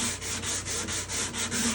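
Hand sanding of wood with firm pressure, a steady rasping scrub in regular back-and-forth strokes, about eight passes in under two seconds, close and alone.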